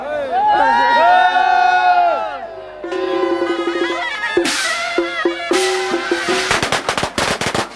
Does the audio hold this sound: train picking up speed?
no